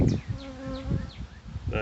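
Bees buzzing around an open hive, several insects passing close by with rising and falling drones, while a person speaks quietly underneath.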